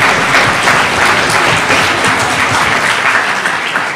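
Audience at the Daniel Cosío Villegas award ceremony applauds in honour of José Emilio Pacheco, loud, close, continuous clapping from a full hall that holds steady for several seconds with no voices over it.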